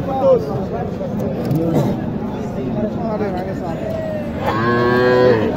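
A Sahiwal cow at a busy cattle market gives a long, rising moo near the end, with lower lowing earlier, over constant crowd chatter and people talking nearby.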